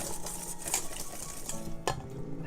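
Melted chocolate being stirred into egg yolks in a bowl for a flourless chocolate cake, a steady soft scraping and mixing close by with a couple of sharper utensil knocks, no talking.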